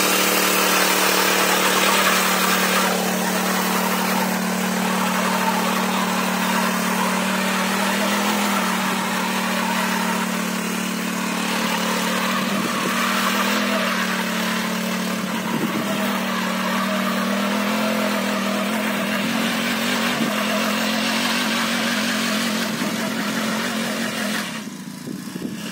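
A single wheel weeder's small engine runs steadily near the listener for about twenty-five seconds, its pitch rising and falling through several revs over the drone, with no voices.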